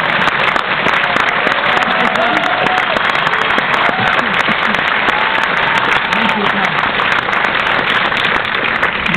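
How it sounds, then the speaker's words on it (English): Sustained, loud applause from a theater audience at a special screening and memorial tribute for an animation producer, dense clapping filling the room steadily throughout with some crowd murmur mixed in. "I think he would ask for applause."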